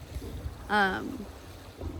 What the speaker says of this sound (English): I hear boats back there revving up